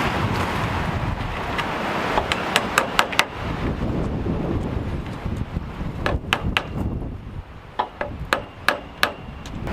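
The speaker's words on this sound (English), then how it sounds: "You notice when I was up there it was tap tap tap tap tap tap tap." A hammer drives nails into wooden boards while a dog kennel is converted into a chicken coop outdoors; sharp, close taps come in quick bursts and clusters over steady wind noise.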